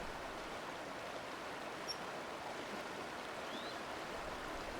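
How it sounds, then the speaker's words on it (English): Steady, soft broadband rush of a river flowing through riparian scrub and grassland, continuous and even from a moderate distance, with a faint bird chirp briefly above it. "Hear the river flowing."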